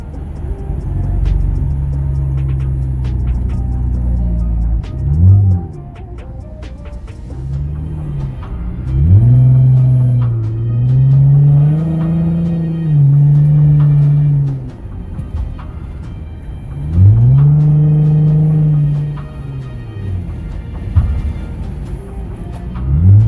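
A custom Dodge Journey fitted with a pedal box throttle controller in sport mode, its engine rumbling and rising in repeated surges of revving acceleration, loud and close, with pitch sweeping up and falling back between pulls.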